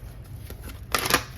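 Cards being shuffled in a quick riffle, a soft papery flutter rising to a brief louder burst near the end, close by with no talking.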